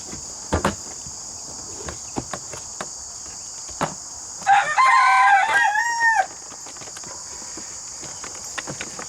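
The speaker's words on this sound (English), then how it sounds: "All the little roosters are not out of their pen yet, their coop yet, so they're talking a little bit." A young rooster gives one short, scratchy crow from nearby inside its coop, while crickets buzz steadily in the background and faint clicks and taps come and go.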